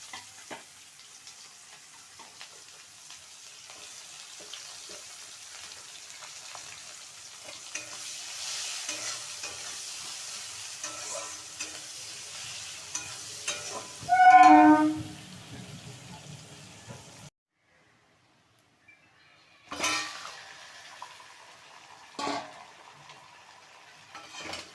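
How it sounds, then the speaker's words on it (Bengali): Whole garam masala, dried red chilli, bay leaf and onions go into hot oil in a home kitchen, giving a soft, steady sizzle with scraping stirs and a louder hiss burst midway, then a pause and a few clatters. "তেলের মধ্যে এই যে গোটা গরম মশলা ফোড়ন দেব, আর হচ্ছে এই শুকনো লঙ্কা, তেজপাতাটা ফোড়ন দেব। তারপরে এই যে পেঁয়াজ দেবো।"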